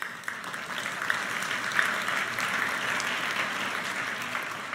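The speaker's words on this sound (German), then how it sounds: "Applaus." A university lecture-hall audience in Vienna claps steadily for several seconds at a political panel, a dense, even wash of applause from many hands.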